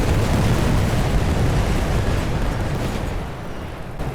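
Grenade blasts in The Great War, a World War I battle on the River Severn, roar loud and sustained as a dense low rumble that slowly fades toward the end.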